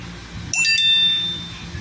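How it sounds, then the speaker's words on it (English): Samsung Galaxy S3 'Pure bell' notification tone, a bright bell-like chime with a sharp double strike and a ringing tail that fades over about a second, alone over faint room hiss. "Pure bell. Pure bell."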